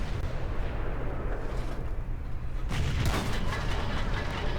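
Artillery fire in World of Tanks: a steady low rumbling battle backdrop that gives way to a loud, close crashing blast with crackling debris near the end, no voices.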